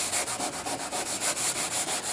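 Bottom paint on a boat hull being scrubbed off with a brush and a 3M abrasive pad down to an epoxy barrier coat, a steady run of rhythmic back-and-forth rasping strokes, close and alone.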